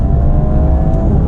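The engine of a 2019 Audi A5 Sportback drones loudly and steadily as the car accelerates at speed, a continuous close-miked roar with a faint whir on top and no talking.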